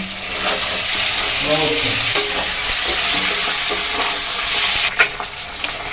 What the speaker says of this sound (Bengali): মাছের মাথাটা কিন্তু আমার ভালো করে ভাজা হয়ে গেছে